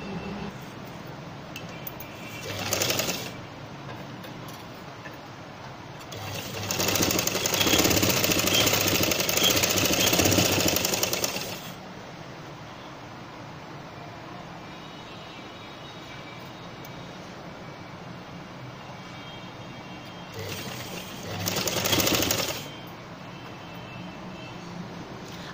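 A sewing machine stitches the side seams of a baby's winter dress, running in three bursts: a short one, a longer steady run of about five seconds, then another short burst, with quiet between.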